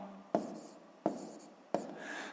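Math being written on a board for a sixth-grade exercise: three distinct, evenly spaced taps of the writing tool, each starting with a sharp click and trailing into a short scratchy stroke, close and fairly quiet.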